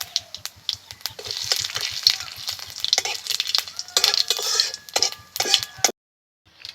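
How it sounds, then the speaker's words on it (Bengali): Whole spices frying in hot oil: dried chilli, cinnamon, clove, cardamom and cumin. A close, steady sizzle and crackle with frequent sharp spoon scrapes and clinks against the pan, cutting off abruptly near the end. "ফোড়নটাকে একটু ভেজে নেব।"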